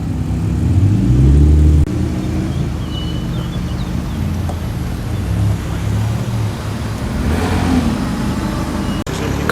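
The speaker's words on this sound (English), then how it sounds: "Quite a few cars rolling in now, and a Suzuki Cappuccino." Cars, including a small three-cylinder Suzuki Cappuccino Japanese kei sports car, rolling into a breakfast car meet: a steady low engine rumble and road noise from nearby vehicles, swelling at the start and again near the end, with no talk.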